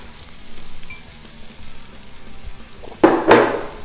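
Onions frying in butter on a Blackstone griddle give a low, steady sizzle that swells into louder, close hissing bursts near the end as more onions hit the hot surface.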